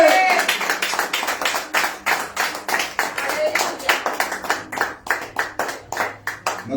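Church congregation clapping in a steady, rhythmic beat, many hands striking together in even pulses, loud and close, with a few voices faintly underneath.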